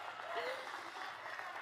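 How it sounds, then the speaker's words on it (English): Rally crowd in Las Vegas applauding first-time voters and young leaders, a steady wash of clapping with a few voices in it. It stays fairly faint and even throughout. "Let's applaud them,"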